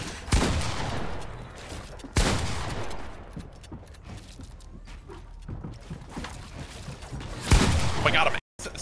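Gunshots in Fortnite: several loud booming shots spaced seconds apart, each with a decaying echo, mixed with game noise and scattered voices talking.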